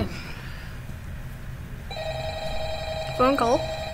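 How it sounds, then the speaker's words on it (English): A telephone rings in a Five Nights at Freddy's style video game, its warbling electronic trill starting about midway and cycling loudly over a steady ambient hum. "Phone call."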